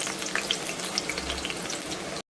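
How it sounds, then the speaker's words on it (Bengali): Potatoes fry in hot oil in a wok, browning to a reddish colour, with a close, continuous crackling sizzle and bright spatter pops, then a brief cut to silence near the end; nobody speaks. "এবার আলুটা ভাজবো তেলে। আলুটা লাল লাল করে ভেজে নেব"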